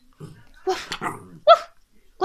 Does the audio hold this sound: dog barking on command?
yes